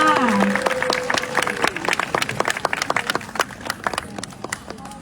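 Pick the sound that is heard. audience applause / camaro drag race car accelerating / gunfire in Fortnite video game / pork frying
audience applause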